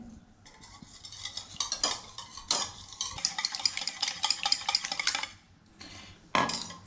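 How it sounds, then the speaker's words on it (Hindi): Two cracked eggs whisked in a bowl for chocolate cake batter, a quick, busy clatter of utensil against the bowl in fast bursts, close and fairly loud, easing off briefly before a final sharp scrape near the end; no talking. "दो अंडे को फोड़ने के बाद उसको अच्छे से ब्लेंड करना पड़ेगा आपको"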